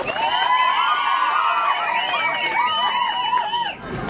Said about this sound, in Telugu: ఇద్దరు కూడా ఘనంగా ఈరోజు చప్పట్లు కొట్టి స్వాగతం పలకాల్సిందిగా